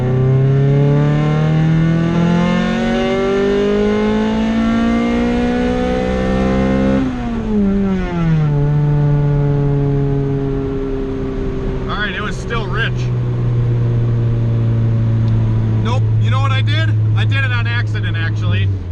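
Honda CRX with an all-motor B20 VTEC engine running E85, pulling hard through third gear with a steadily climbing wail, a brief dip at the shift point, then a rising pull again; loud and in-cabin, with speech over the end.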